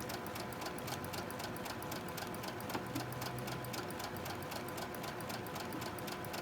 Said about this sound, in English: Now let's go ahead and we're going to sew these together.